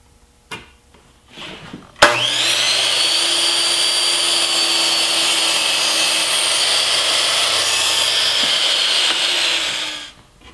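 A power saw cuts a miter on each end of a 1x2 wooden piece for a ping pong tabletop, a few faint knocks first, then a loud steady whine that starts abruptly and runs about eight seconds before winding down.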